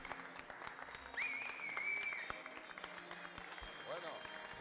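Audience applause at a LAN party's Valorant tournament, honouring the champion team: soft, distant clapping under a steady crowd murmur, with a brief louder tone partway through.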